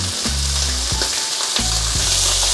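Beef sears in a very hot oiled wok over a high flame, giving a loud, steady close-up sizzle with a few short clanks and scrapes of the utensil, and no voices.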